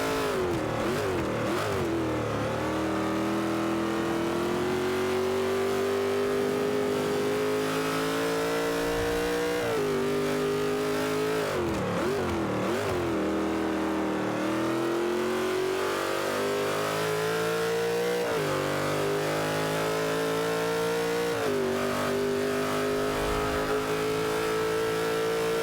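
Race cars lapping in Forza 5 on Xbox One, with a loud engine note climbing and dropping through repeated gear changes for the whole stretch, alone and unbroken.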